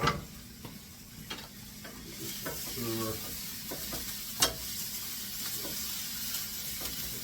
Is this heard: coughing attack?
no